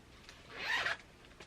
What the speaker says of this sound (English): it's a zippered tote. There's the zipper.